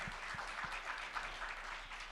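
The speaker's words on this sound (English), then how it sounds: "a big round of applause towards our panelists, please" Audience applause for panelists at a mental wellbeing conference session, a steady wash of many hands clapping at moderate volume, fairly even throughout with a few low thumps near the start.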